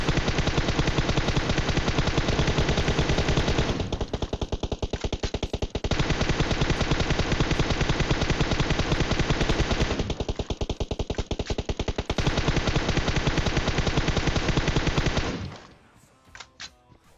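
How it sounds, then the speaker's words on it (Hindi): Automatic-weapon gunfire in the mobile battle-royale game PUBG Mobile: long, loud, rapid bursts of shots with brief breaks between them, ending abruptly after about fifteen seconds, with no talk. "तो चलाता हूँ मैं गोलियां।"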